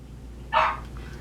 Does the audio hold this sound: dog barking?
yes